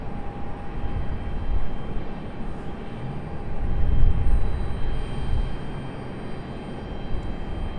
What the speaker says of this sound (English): one of two FedEx ATRs on final out there